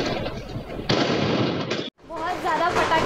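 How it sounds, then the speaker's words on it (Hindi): Dense firecrackers bursting during a Diwali celebration, a continuous loud crackle of overlapping pops that cuts out briefly before resuming, with voices mixed in. "बहुत ज़्यादा पटाखे फूट रहे हैं तो आवाज़ क्लियर आएगी नहीं"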